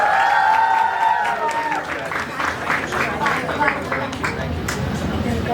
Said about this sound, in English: Huge round of applause for Pallavi.